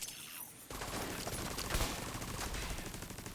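A deployed turret in The Division opens fire with rapid automatic gunfire that starts abruptly and continues as a steady, fairly faint stream of shots.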